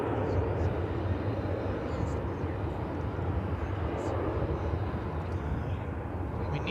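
A 20th century aircraft at DFW Airport produces a steady, loud jet engine rumble and roar lasting throughout, with a voice talking over it.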